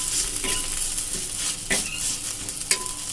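Chopped garlic sizzling steadily in hot oil in a pan, with a spatula scraping and stirring at intervals, close and fairly loud with no talk.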